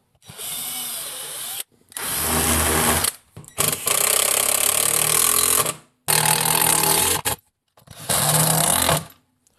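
A power drill drives four screws into wood while a Moxon double-screw vise is being built, in five loud, sustained whirring runs with brief gaps of silence between them, close up and with no talk.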